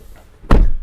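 Power door locks on a 2016 GMC Yukon XL Denali 4WD actuate with a single sharp, loud thunk after a brief quiet moment, heard close up inside the vehicle.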